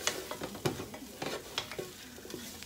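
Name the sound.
stirring cumin into chicken chili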